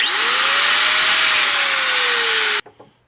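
A Dewalt DWE402 angle grinder, freshly fitted with new brushes, runs at full speed with a loud, steady high-pitched whine, then shuts off abruptly, leaving a couple of faint clicks.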